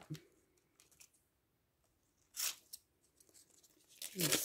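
Gummed kraft paper tape being cut to length, two short crisp tearing, snipping bursts separated by quiet, close and fairly soft, with a few faint handling taps between.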